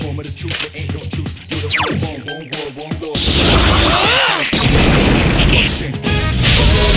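Video game battle in Persona 3 Portable: a burst of rapid choppy hits and whooshes gives way to a loud, dense crashing impact and swelling attack effects, with talk mixed in.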